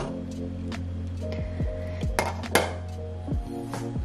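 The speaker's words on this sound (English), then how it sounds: "I'm going to cover it partially." A lid is set partly onto a pot of simmering lemon balm syrup, making several sharp metallic clinks and scrapes with ringing tones over a constant low kitchen hum, close by and with no talking.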